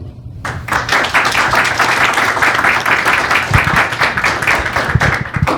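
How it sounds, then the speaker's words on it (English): Audience applause at a US Senate candidates forum in Durham, a dense, steady crowd clapping that starts abruptly and holds loud throughout, with a few heavier thumps near the end. "Thanks for the applause for our candidates."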